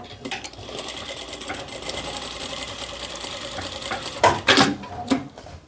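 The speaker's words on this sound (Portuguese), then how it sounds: "agora nós vamos na máquina para fazer a costura do elástico e vamos costurar também os passantes" A sewing machine stitches the elastic waistband of a pair of women's shorts, running in a steady rapid mechanical whir, with short louder bursts near the end as it speeds up and stops.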